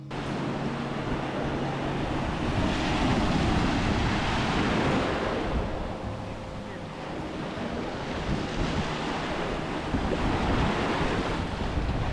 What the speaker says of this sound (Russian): Море достаточно глубокое, волны.